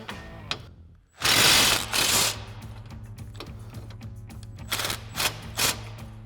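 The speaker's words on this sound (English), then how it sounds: "we're going to remove this bolt using our 15mm swivel socket and extension on our impact" An impact wrench with a 15mm swivel socket and extension rattles off a sway bar end link bolt on a 2016-2024 Camaro, loud close bursts of hammering with short gaps between them.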